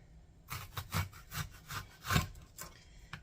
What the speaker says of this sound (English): So we're going to need some thin slices of red onion.